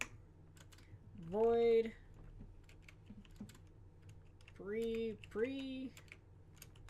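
Code is typed on a computer keyboard for a Minecraft Forge mod, with soft, quick key clicks running steadily in the background while someone speaks briefly in between.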